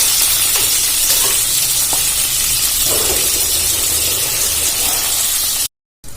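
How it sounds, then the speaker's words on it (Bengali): Pointed gourd frying in oil in a pan makes a loud, close, steady hiss and sizzle with a few light stirring clinks, then cuts out abruptly near the end, with no voices. "তো অল্প অল্প করে পটলগুলো ভেজে নেব।"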